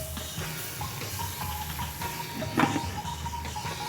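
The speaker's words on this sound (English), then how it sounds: "You want to fry these minced vegetables and extract that liquid and concentrate the flavors" Minced sofrito vegetables fry in fat in a pan, giving a steady, moderate sizzle with faint crackle and a brief clatter midway, with no talking.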